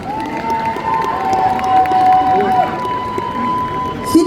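An audience at a cosplay contest awards ceremony claps and cheers steadily, a broad crowd roar with scattered shouts and a sustained whistle-like tone running through, moderately loud throughout.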